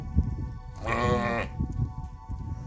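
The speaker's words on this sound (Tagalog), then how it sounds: "So ayan ang kanilang kambing." A single goat lets out one clear, wavering bleat at close range on a farm in Sweihan, UAE, standing out over quiet low rustling background.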